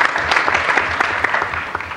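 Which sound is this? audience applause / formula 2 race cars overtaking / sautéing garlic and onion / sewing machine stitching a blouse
audience applause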